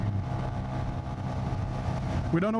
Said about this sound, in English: my goodness, loud exhaust